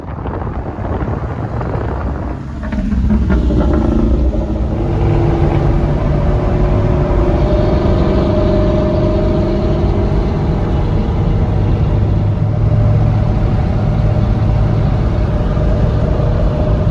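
Several Ford Mustang engines, including two Mach 1s, rumble and rev together at close range over steady wind noise, the drone rising as the cars pull away in a group.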